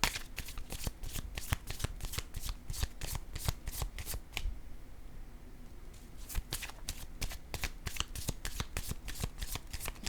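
Playing cards shuffled rapidly during a card reading: a dense run of crisp riffling clicks, loud and close, with a short lull midway before the shuffling resumes.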